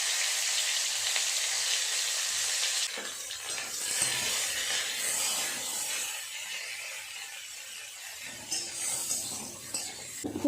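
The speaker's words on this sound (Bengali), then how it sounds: "ফুলকপি আর আলুগুলো আগে ভেজে নেব।" Cauliflower and potato pieces fry in a pan, a soft crackling sizzle with occasional stirring clinks and scrapes, fairly quiet and uneven in level.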